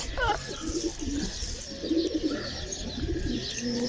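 Pigeons coo softly and repeatedly at close range, with a few chirps mixed in over a steady outdoor background.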